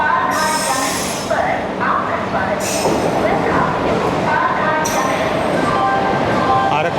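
A Kannur–Coimbatore Express passenger train rumbles past with steady, loud wheel noise and brief bursts of high squealing, heard continuously up close.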